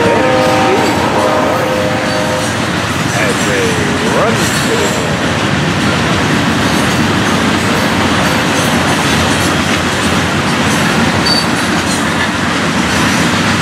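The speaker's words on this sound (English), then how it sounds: "There we are, gondola on the head end, box on the rear end, hoppers in the middle." FEC 920, a freight train with a gondola, boxcar and hoppers, rolls past close by, a loud, continuous rumble with rhythmic clickety-clack of wheels and a brief squeal early on.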